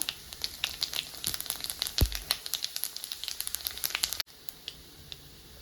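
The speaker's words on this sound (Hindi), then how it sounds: "हमारा मसाला अच्छे से तेल में भून गया है।" Cumin and fennel seeds with spices fry in hot oil for a pear chutney, giving a steady crackling sizzle with sharp pops throughout and one louder thump partway in, then a quieter, even sizzle at the end.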